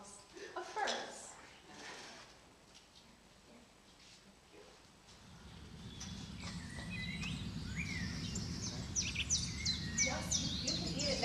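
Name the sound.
birds singing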